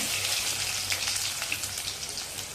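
Chopped garlic fries with cumin seeds in hot oil, giving a steady, dense sizzle and crackle throughout, close and fairly loud with no speech.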